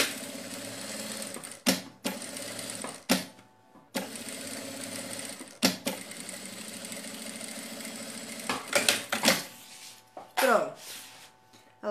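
A sewing machine stitches across the bottom of a fabric bag in loud, sustained runs broken by brief stops, with clicks and handling noises between the bursts.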